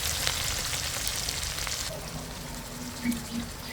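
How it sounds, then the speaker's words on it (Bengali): Spices sizzling and frying with onion, garlic, ginger and chili in a pan in a Bangladeshi village kitchen, a steady crackling hiss with stirring scrapes, close and moderately loud. "মশলা দিয়েছি পেঁয়াজ রসুন আদা মরিচ দিয়ে এটারে আমি কষাই নেবো ভালো করে কষাবো"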